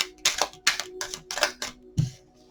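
Tarot cards are shuffled by hand in a series of crisp riffling bursts, four quick rustling strokes followed by a soft thud, close and clear.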